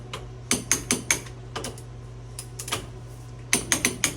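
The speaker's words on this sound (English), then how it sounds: "we set our way overkill torque wrench to 80 foot-pounds" A torque wrench set to 80 foot-pounds clicks as bolts are tightened during reassembly near a differential, giving sharp clusters of metallic clicks in quick rhythm, close and distinct over a steady low hum.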